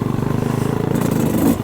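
A 125cc four-stroke dirt bike engine putters close by in a rapid regular pulse, with a slight rise toward the end.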